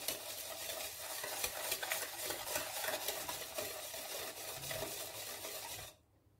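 Anise rosquilla batter being beaten in a bowl makes a fast, continuous rhythmic scraping and slapping, close and fairly loud, until it stops abruptly just before the end.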